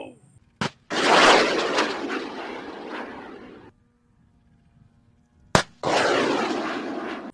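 Toy military rocket launcher car firing its sound effects: two long, harsh blasting bursts, each set off by a sharp click, with near silence between them, loud and close.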